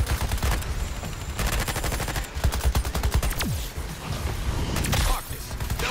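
Rapid bursts of gunfire fill a video game boss fight against the Flash, with dense machine-gun rattles and volleys crowding close and loud for several seconds, barely pausing before another barrage.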